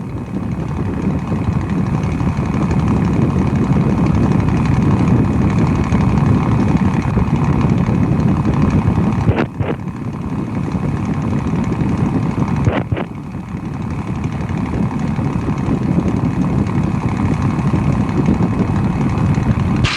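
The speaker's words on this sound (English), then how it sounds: "we're going to need a couple of minutes just to warm up the Merlin to about 40 degrees Celsius" A P-51 Mustang's Rolls-Royce Merlin engine warms up at idle, a loud, close, steady low roar with wind buffeting the microphone and two brief dropouts partway through.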